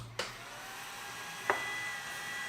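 A power inverter, a Tataliken 1600 under repair and fed from a battery, is switched on: a sharp click, then a steady electrical hum, a second click and a faint high whine settling in as it starts, with no talking.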